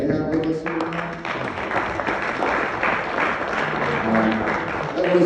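Married couples in a comedy club audience applaud for a stand-up comedian, a dense, steady burst of clapping with some cheering voices mixed in throughout.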